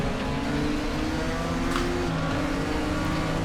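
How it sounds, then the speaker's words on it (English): A Nissan Skyline race car in the Raceroom game at Sonoma drones with a steady, loud engine note, holding constant without pauses as it pulls under boost. "The Skyline is just a monster once it gets some room to actually get in boost"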